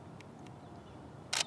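A single-lens reflex camera shutter clicks while exposures are bracketed for HDR, one sharp, loud, brief burst near the end after a few faint ticks, over a quiet background.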